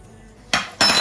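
Two loud metallic scrapes of a spoon against a pan while stirring zucchini spread, each a sustained clattering rasp, close up with no talking.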